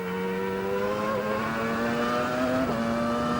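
A race car engine at full throttle down a straight at Silverstone, one loud close steady howl climbing gradually in pitch, with a brief shift blip near the end, no talking.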